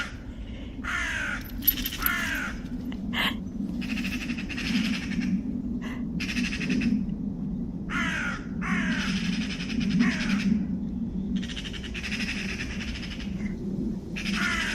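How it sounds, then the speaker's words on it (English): Magpies and crows squabble in woodland, harsh caws and rattling chatter bursting out again and again over a low steady background rumble. "That is the sound of magpies"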